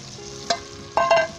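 Eggs cooking with tomatoes in a pan over medium heat for Punjabi-style egg bhurji, with a low sizzle and a couple of brief stirring scrapes and clinks, close and moderately loud, no talking.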